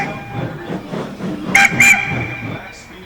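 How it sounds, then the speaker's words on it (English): A steam locomotive whistle gives two short, bright blasts in quick succession over a bed of speech-like murmur and background rumble, fairly loud and close. "suddenly, Emily came in with a loud whistle"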